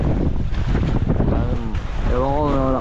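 Small boat pitching in rough open sea, wind buffeting the microphone and water slapping the hull in a steady churning wash, with a voice talking over it.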